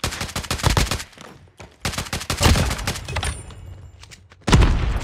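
Rapid bursts of loud gunfire from Call of Duty Mobile search and destroy, sharp close shots in dense volleys separated by brief lulls, ending on another heavy barrage.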